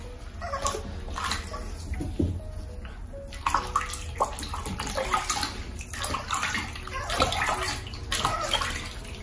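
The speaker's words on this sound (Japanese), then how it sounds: "石鹸落としていこう。" A micro teacup puppy is rinsed with running water in a bathtub to wash off soap, giving a steady splashing, trickling flow throughout with occasional sloshes, close and fairly loud, with no talking.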